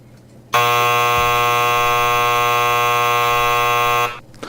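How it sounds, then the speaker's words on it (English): A single loud, sustained electronic buzzer drones steadily for about three and a half seconds, then cuts off abruptly. "That's the longest buzzer I've ever heard in my life."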